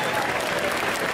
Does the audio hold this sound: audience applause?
yes